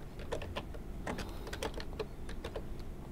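Typing text on a computer keyboard in Microsoft Word: a string of quick, light key clicks in small uneven bursts, close by, with short pauses between the groups of keystrokes.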